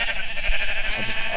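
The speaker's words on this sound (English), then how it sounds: "God, so many sheep!" Blocky sheep from Minecraft bleat in a steady chorus of overlapping nasal calls, several animals close by and fairly loud, with no talking over them.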